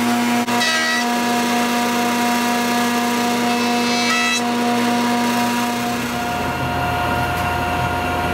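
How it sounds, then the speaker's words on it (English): Wood pieces run through a jointer and then a planer, a loud continuous machine drone with steady tonal hum and brief bursts of cutting noise layered over it. "I'm going to start running these pieces through the joiner, then the planer, try to get them all squared and symmetrical."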